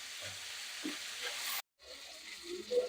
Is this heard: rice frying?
yes